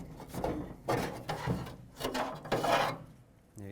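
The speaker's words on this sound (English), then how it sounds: "Reach in here, grab it by the rod, and slide it right off." A metal latch rod slid off the door latch inside the door of a 2003-2021 Chevrolet Express 3500 van, heard as a few quiet close scraping and rubbing strokes ending in a faint click.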